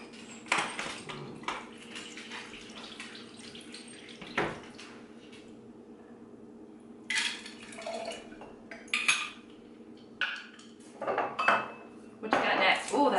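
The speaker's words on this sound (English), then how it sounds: "I'm gonna go ahead and pour my cocktail and then we'll finish it off." A cocktail is poured into a glass in a home kitchen, with short splashy bursts of liquid between clinks of glassware and utensils. The pouring comes in brief separated spells.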